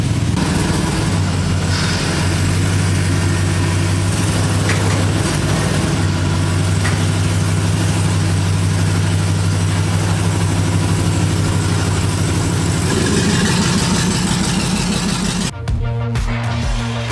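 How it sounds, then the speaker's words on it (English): A Chevrolet LS V8 in a pro touring C10 truck chassis, sitting for three months, runs with a loud, steady low rumble close by, the idle settling and shifting slightly before a brief change near the end. "It's an LS, of course it's gonna start."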